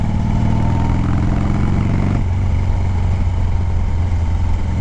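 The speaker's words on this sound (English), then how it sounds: "I love that deceleration. It's not exactly backfiring" Motorcycle-type engine decelerating, a loud close-up rumble with a dense low-pitched firing pattern that shifts abruptly partway through into a rougher, popping burble as revs drop.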